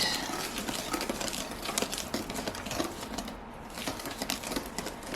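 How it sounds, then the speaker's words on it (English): Red velvet cake batter being mixed until the dry ingredients are incorporated, a steady run of light clicking and tapping like a utensil or mixer beating against a bowl, close and continuous with no talking. "So this I'll just mix until all the dry ingredients are incorporated."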